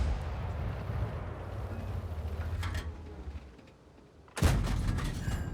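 Artillery rumbles through World of Tanks from a Churchill Crocodile tank's position, a low, distant boom and grumble, followed after a brief quiet by a sudden loud blast.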